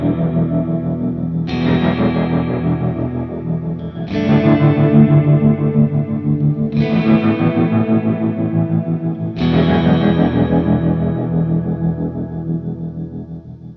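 Strymon BlueSky reverb pedal in shimmer mode: four swelling chords bloom into a thick, octave-shimmering wash that sustains and overlaps, loud and continuous with no voices.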